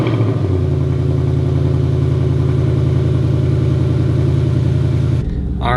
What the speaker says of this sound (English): I just started the car up for the first time